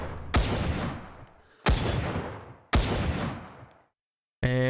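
Three loud, sharp semi-automatic rifle shots of Russian design in the Vietnam War game Rising Storm 2, spaced about a second apart, each trailing a long echoing decay, followed by a short metallic mechanical rattle at the end.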